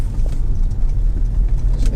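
A Honda HR-V 1.6 i-DTEC diesel hatchback drives with a steady, loud low engine and road rumble heard from inside the cabin, with no one speaking.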